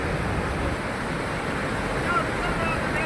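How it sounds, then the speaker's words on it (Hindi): Floodwater after a cloudburst in Himachal rushing down a slope, a continuous dense roar with steady broadband rumble, loud and unbroken, with faint wind buffeting the microphone. "लेकिन ढलान होने की वजह से कुछ सारा पानी नीचे की तरफ जा रहा है"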